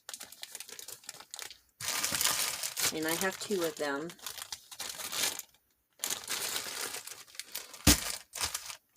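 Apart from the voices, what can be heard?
plastic bag crinkling while handling packs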